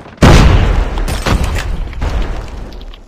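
A Semtex grenade goes off in a first-person shooter with one sudden, loud boom, followed by rumbling echoes and a few smaller distant bursts that fade out.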